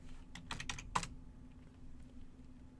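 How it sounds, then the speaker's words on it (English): Several quick keystrokes on a computer keyboard clustered in the first second, then a faint hum and near silence, with no talking. "now type the run command and press enter"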